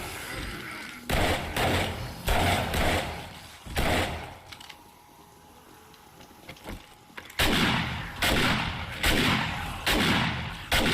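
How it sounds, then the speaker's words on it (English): Repeated pistol shots from the video game 7 Days To Die crack out in rapid bursts, loud and punchy with thudding low ends, pausing in the middle before a second volley of evenly spaced shots. "I'm using the pistol here just because I want to kill them off a bit faster"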